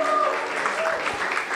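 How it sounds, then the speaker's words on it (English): A church congregation at a family service claps in a brief burst of applause, with a voice audible over the clapping. "Let's give them a round of applause"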